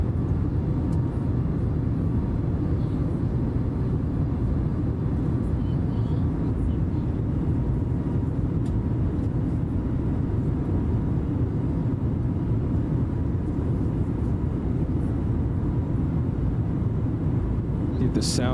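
Airliner engines in a flight simulator game climbing out after flap retraction, a steady, loud, low rumbling roar with constant broadband hiss that never lets up, with no talking over it.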